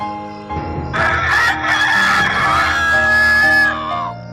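A rooster crows in a dramatized Bible scene of Peter's denial staged for a kindergarten online worship service, one long drawn-out crow lasting several seconds, loud and close, with no talking over it.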